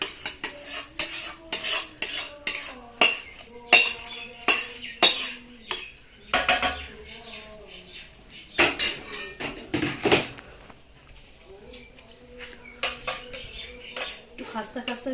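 Ghee stirred into khichuri in a pot: metal spoon clinks and scrapes against the pot in irregular bursts, with a voice talking intermittently between the strokes.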